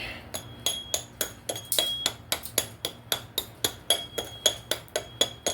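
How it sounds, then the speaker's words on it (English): Chisel chipping slag off a fresh weld made with a Hone welder: rapid, evenly spaced sharp metallic taps, close and alone, about four per second. "Chisel some of this away."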